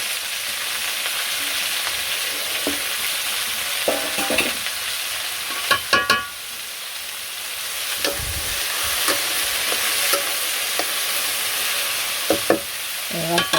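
Okra frying in a pan, a continuous close sizzle broken by repeated scraping and clattering stirs from a spatula at irregular intervals.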